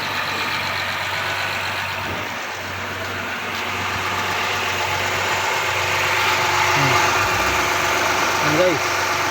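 The V6 engine of a 2014 Honda Accord idles steadily with a constant mechanical hum and a faint ticking, heard close up for the whole stretch.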